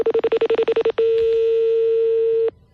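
A telephone number is dialed as a quick run of about ten short, clear tone beeps, followed by a steady held tone lasting around a second and a half before it cuts off into quiet.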